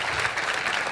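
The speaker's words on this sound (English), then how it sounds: "could we please give them a big round of applause for their sharing?" An audience at a Melbourne business event applauds, a dense and steady burst of clapping filling the brief moment.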